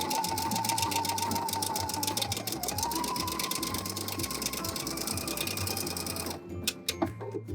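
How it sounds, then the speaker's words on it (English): Sewing machine stitching a wide broken zigzag stitch, a fast steady mechanical rattle with rhythmic ticking, close and loud, then stopping near the end with a few clicks. "I'm going to be creating the broken zigzag stitch. I'm going to start with a really wide one."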